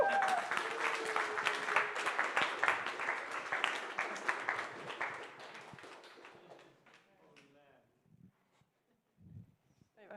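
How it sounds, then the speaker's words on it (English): Standing crowd at a film and multimedia tech hackathon applauding loudly, with cheers and a whistle over the clapping, which fades out after about seven seconds into scattered voices and room noise. "let's stand up for a second and give us a big, big applause"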